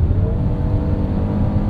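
A 2021 Kia Telluride SX AWD with a 3.8 liter V6 accelerates in sport mode, a steady droning engine hum heard from inside the cabin.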